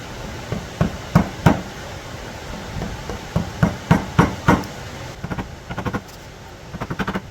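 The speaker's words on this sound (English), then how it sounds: "now I'm gonna clean the rest of this up with a chisel" A chisel struck by a mallet to clean up wood on an antique table, sharp close knocks coming in uneven bursts of two or three, with brief quieter scraping between them.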